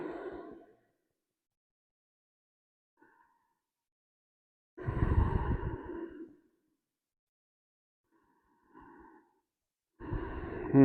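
Slow, deliberate breaths during a tai chi exercise routine, a few separate inhales and exhales spaced several seconds apart with silence between, close and soft.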